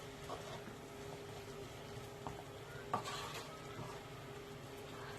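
Vegetables seasoned with paprika, black pepper and salt cooking over low heat in a pan, a soft, even sizzle with occasional faint stirring scrapes and utensil taps, quiet and without talk.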